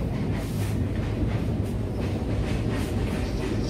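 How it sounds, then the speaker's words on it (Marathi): A Konkan Railway train rolls into Thane station, and its low, steady rumble and rattle fill the space close by with no voices over it. "आत्ता आमची ट्रेन ठाण्याला आलेली आहे आणि आता आम्ही उतरत आहोत."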